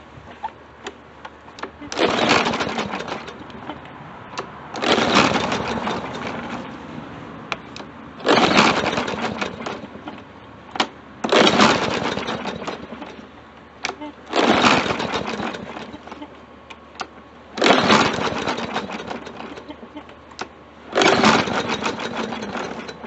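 Huskee 140cc lawn mower engine running on starter fluid, sputtering to life in repeated bursts of several seconds each, roaring then dying away between attempts, with someone talking at points.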